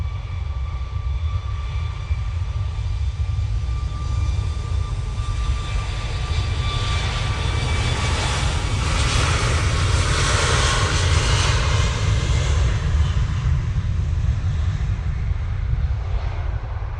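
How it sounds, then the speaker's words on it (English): Qatar Airways QR22, a heavy jet airliner, departing Manchester Airport with a loud, steady engine roar that swells and peaks midway before easing slightly, heard alone without talk. "Looks like we've got our first decent heavy departure."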